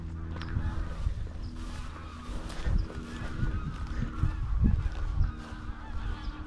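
A flock of geese honks repeatedly on a coastal walk at Newark Bay, Orkney, a noisy overlapping chorus of calls over a low rumbling background.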